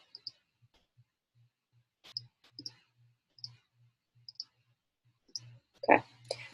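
Sharp, light mouse clicks from CAD floorplan drafting come in scattered pairs and singles across a quiet desk, with a low steady hum beneath and a louder burst of handling near the end.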